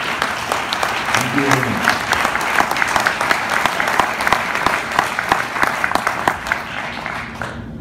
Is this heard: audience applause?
yes